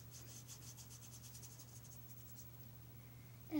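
Lotion rubbed into skin, a faint soft rhythmic rubbing over a low steady hum, quiet and close, ending with a brief louder rustle.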